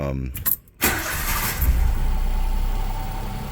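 A motorcycle engine starts semi-cold: a brief cranking burst, a short gap, then the engine catches and settles into a steady, fairly loud idle with a low rumble that holds to the end.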